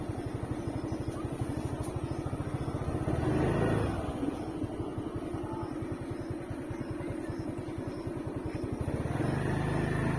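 A motorbike rides along a road past temples, its engine a steady close drone throughout, swelling briefly near the middle, with no talk over it.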